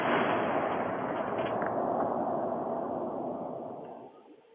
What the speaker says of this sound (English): You were seeing the moment a chemical plant explosion rocked the area, caught on a home security system.